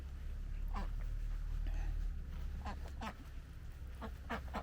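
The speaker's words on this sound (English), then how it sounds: "So we've opened up the duck enclosure bit so the ducks can go freely as they want into the rest of the run." Ducks in the run of an organic summer garden in Bulgaria, giving scattered short quacks and honks at moderate distance over a steady low rumble of outdoor background noise.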